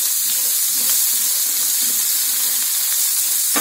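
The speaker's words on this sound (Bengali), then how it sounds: "পেঁয়াজটা একটু ভাজা ভাজা করবো," Chopped onion frying in a pan for a pumpkin and potato dish, giving a loud, dense, continuous hiss with faint stirring underneath, close up and without talk.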